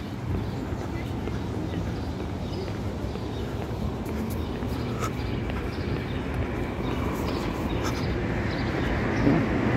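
A street tram passes nearby in Saint Petersburg near Gorkovskaya metro on Kronverksky Prospekt, giving a steady low rumble and rolling noise that swells slightly toward the end, heard alongside traffic and street ambience.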